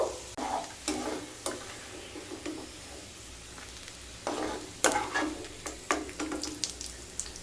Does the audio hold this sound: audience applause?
no